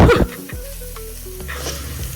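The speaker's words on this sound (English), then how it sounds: "we're just gonna saute that up for a minute just to let the flavors develop" Spices sautéing in a pan for a TikTok recipe, a burst of loud sizzling and stirring at the start settling into a softer steady fry with faint background hum, no voices.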